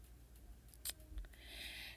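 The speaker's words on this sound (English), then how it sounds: "Trim all your threads and you are done." Scissors trimming threads on a quilted table place mat make a quick, close snip followed by a few faint clicks, then a soft rustle of fabric.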